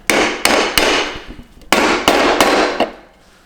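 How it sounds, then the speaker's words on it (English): A hammer taps a piece of wood to drive a headset bearing into a Crazy Cart, giving about seven sharp, loud, close knocks in two quick clusters with a short pause between them. "I am going to grab my piece of wood and a hammer, and it should just go right on in there."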